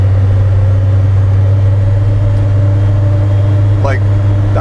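A Polaris 1500 side-by-side engine runs at light throttle while holding a higher gear, a loud, steady low drone that stays level throughout, with a brief rising whine near the end.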